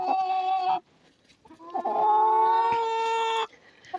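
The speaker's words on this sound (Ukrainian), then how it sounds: "І ця куриця бігає, вже третє відро перевіряє." A chicken lets out long, drawn-out squawking calls close by, two loud tonal bursts separated by a brief pause with faint rustling in a rural yard.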